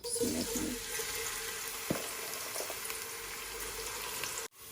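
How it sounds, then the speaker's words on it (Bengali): Sliced onions frying in hot cooking oil, a steady hissing sizzle that runs on without a break, close and fairly quiet, with a few soft knocks near the start and a brief thump near the end. "তো এখন আমি পেঁয়াজ বেরেস্তা আগে করে লইমু।"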